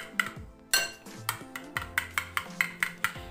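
A spoon stirs a no-bake dessert mixture in a cup, giving a quick run of bright, close metallic clinks against the cup with short pauses between strokes.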